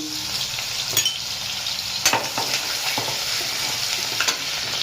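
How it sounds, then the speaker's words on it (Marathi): Garlic hits hot oil in a pan for a Marathi-style ghevda and dried-fish vegetable dish, giving a steady, close sizzle with crackling pops and a few clinks of stirring throughout. "तेल आपला गरम झालेला आहे तर आपण टाकूया लसूण"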